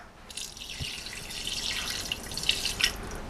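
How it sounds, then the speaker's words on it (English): Water runs from a tap into a cup, a steady trickling stream with brief splashy drips rising in brightness as the cup fills, heard alone and fairly close. "Then we're going to take a full cup of water."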